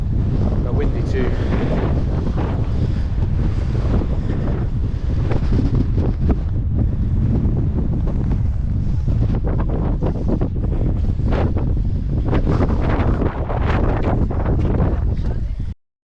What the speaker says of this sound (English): But windy too.